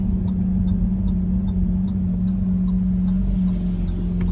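A car engine idles in neutral after the gearbox slips out of gear, a steady low droning hum close by, with no clear revving and no speech.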